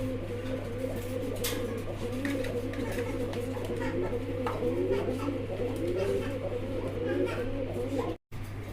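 Fancy pigeons at a wholesale pigeon seller's coop coo in soft, repeated low murmurs, several birds overlapping steadily throughout against a constant background hum.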